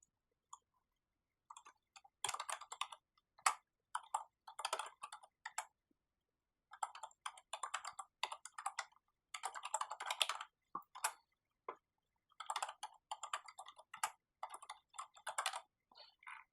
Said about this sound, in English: Let me type in a name for you.